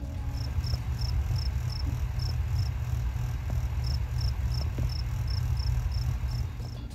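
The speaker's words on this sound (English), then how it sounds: "you can hear a cricket in the background as I'm filming the plant damage." Cricket chirping steadily in the background, high-pitched pulses in regular bursts repeating throughout, faint over a low constant room hum.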